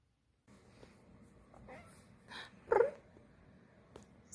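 A house cat close by gives a soft purring and a short, sharp meow amid quiet room noise.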